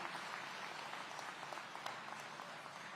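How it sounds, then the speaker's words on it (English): City council members receive steady, even applause from an audience at a public safety address in Aurora, a dense wash of clapping that holds at a constant level throughout. "Let's give our city council members a round of applause"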